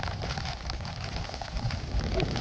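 Steady rain on a hill fort trek at Hatgadh near Saputara, a dense even hiss of drops pattering close by throughout, moderate in level with no voices.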